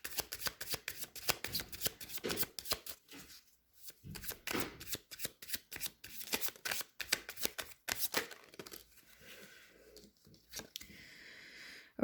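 Tarot cards are shuffled close up in a quiet room, a long run of crisp riffling flutters and soft slaps with brief pauses between bursts, no talking over it.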